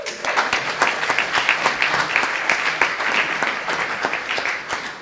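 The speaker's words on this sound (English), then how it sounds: "let us give them a big applause again." A crowd at a Guyana Speaks event breaks into applause, with many overlapping claps forming a busy, sustained roar that holds steady for about five seconds at close range.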